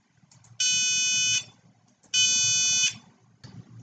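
An electronic buzzer sounds two shrill, piercing beeps of under a second each, separated by a short pause, with faint background noise between.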